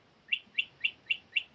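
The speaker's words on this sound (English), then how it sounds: "sorry about the birds. Where's the bird?" Small birds chirp outdoors in five evenly spaced, sharp high tweets, faint and isolated against a quiet background.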